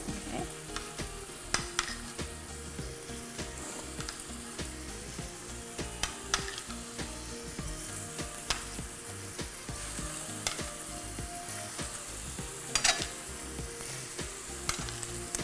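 Meatballs spiced with cinnamon fry in a pan with a continuous close crackling sizzle, sharp pops and occasional stirring clicks scattered over a steady hiss, with no talking.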